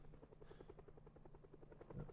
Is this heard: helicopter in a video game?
yes